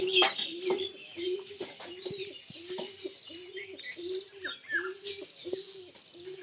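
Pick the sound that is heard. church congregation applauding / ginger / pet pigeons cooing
pet pigeons cooing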